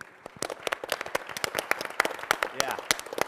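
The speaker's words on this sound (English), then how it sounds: "another round of applause for live demoing" Live audience at a developer conference session applauding a live demo, a burst of close, irregular hand claps from a modest crowd, with talking mixed in.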